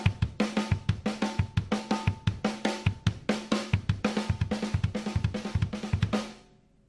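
Drum kit playing a 2 and 2 pattern on snare and kick only, with steady rhythmic hits, dense and loud, ringing out at the end with no talking.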